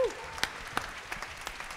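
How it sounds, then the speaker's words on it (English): An audience at a duet concert applauds, a thin, scattered patter of clapping with a few sharper individual claps standing out over a soft room background. "Big round of applause for the audience"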